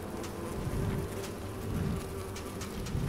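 A swarm of bees attacking in a video game, a dense droning buzz that swells and pulses continuously throughout, loud and close with no talk.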